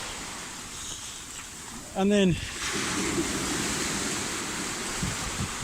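Ocean waves wash onto a beach shoreline along a path to hidden stairs, a constant broad rush of surf that swells after a brief spoken phrase, with a few small splashes near the end.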